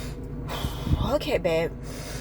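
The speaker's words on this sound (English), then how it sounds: "I'm just doing that heavy breathing" Several heavy, audible breaths, sharp inhales and exhales in quick succession, close to the listener.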